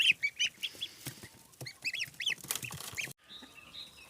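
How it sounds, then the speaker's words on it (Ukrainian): Chickens cluck and squawk in repeated short bursts, fairly close, with scattered calls from several birds and no talking. "Курочки, індики так і є на цьому господарстві."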